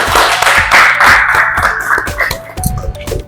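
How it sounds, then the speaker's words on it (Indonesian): A class applauds group 3 after their presentation in an Indonesian university teaching session, a close, steady round of handclaps that thins out toward the end, with a faint ringing tone and scattered murmurs. "kita berikan aplaus untuk kelompok 3"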